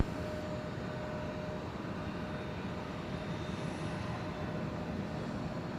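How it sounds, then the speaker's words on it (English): A Delta Boeing 737-900 touches down at Atlanta, heard as a faint, steady distant jet rumble with a low, even wash of engine noise and no distinct impact. "1625 touching down from Memphis, 737 900."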